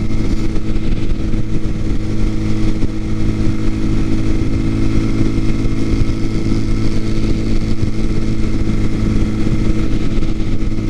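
A TaoTao TBR7 motorcycle with a 17-tooth front sprocket cruising on a highway, its engine a steady, loud, continuous drone with wind rush throughout and no talk.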